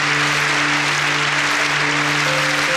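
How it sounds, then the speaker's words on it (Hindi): Steady, dense applause from a church congregation during a Hindi-language Christian worship broadcast, continuous and fairly loud throughout, with a low sustained musical tone underneath. "यीशु के लिए तालियां हो जाएं।"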